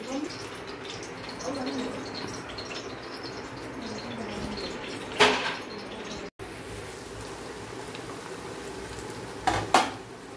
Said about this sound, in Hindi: ये अदरक लहसुन पेस्ट डाल रहे हैं